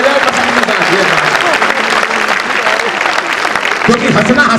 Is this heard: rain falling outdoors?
no